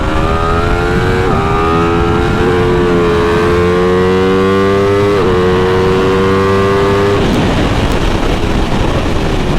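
An Aprilia motorcycle with an SC Project exhaust and dB killer races hard on a track, loud and close, its engine screaming through rising pitch sweeps with quick dips at each gear change.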